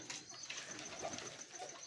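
A pigeon coos softly and briefly against a faint hiss of background noise.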